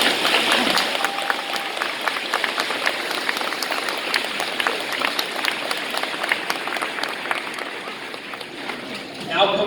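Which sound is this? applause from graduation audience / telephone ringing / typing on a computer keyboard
applause from graduation audience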